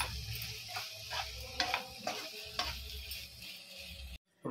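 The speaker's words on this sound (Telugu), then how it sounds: "స్ప్రింగ్ ఆనియన్ ఇప్పుడు వీటిని కొంచెం మిక్స్ చేసుకొని సర్వింగ్ ప్లేట్లోకి తీసుకుందాం" Fried gobi being stirred with freshly added spring onion in a pan, a steady soft scraping and sizzling with repeated stirring strokes, close and moderately loud, ending in a brief silence.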